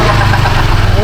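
A motorcycle engine idles close by, a loud, steady low rumble with a fast pulsing throb that runs unbroken throughout.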